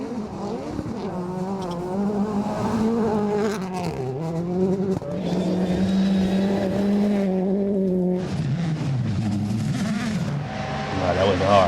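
WRC rally cars from the 2023 season drift through corners with rising and falling engine revs, tire squeal and gravel noise, loud and close, while someone talks over the action.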